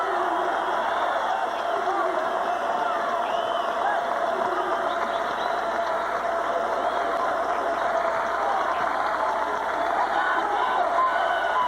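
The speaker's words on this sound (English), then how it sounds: "This crowd's involved." A packed arena crowd at a college basketball game between Illinois State and Southern Illinois roars continuously and loudly, with cheering and whoops blending into a dense wash of noise, and an announcer speaking over it.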